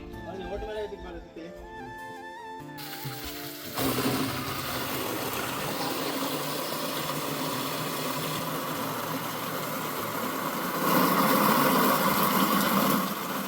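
A newly fitted bore motor pumps water at a home, a steady broadband rushing and humming drone that starts abruptly and runs on continuously, with people talking over it.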